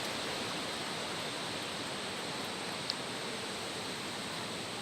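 Water pours into a camp cook pot in a steady, even rush, about eight ounces going in, continuous and close throughout with a single brief tap near the end.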